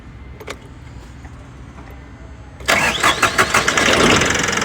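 Toyota diesel forklift engine cranking and catching after an electrical connector fault was fixed: a quiet lead-in with a few clicks, then the engine starts abruptly and settles into a loud, rough idle.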